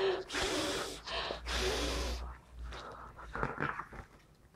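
A child blows hard on a book in several forceful bursts of breath, each a rushing, breathy gust, close and loud, with short gaps between and softer breaths trailing off at the end.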